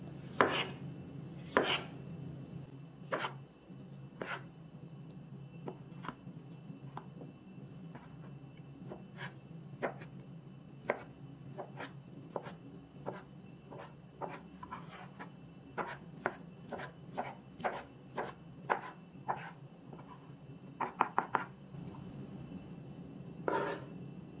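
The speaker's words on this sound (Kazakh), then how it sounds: "Қызылшаны да солай майдалап көбіктеп турап шығамын." A knife finely chopping beetroot on a board for a salad, producing a long run of crisp, close taps in irregular bursts, some quick and clustered, with no talking.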